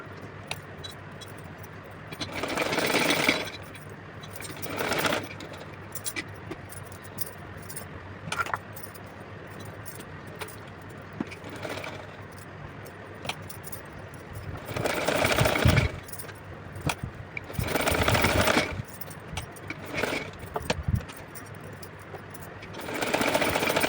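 A sewing machine stitches a child's dress for a Kanha ji idol, running in several separate loud bursts of rapid whirring with quieter handling and pauses in between.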